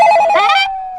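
A telephone rings loud and close at night, one short electronic trill that fades away quickly.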